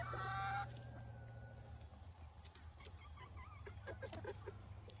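Chickens cluck and a rooster crows in a grassy backyard coop, the crow loud at the start, then scattered clucks and short calls continue over a steady low hum.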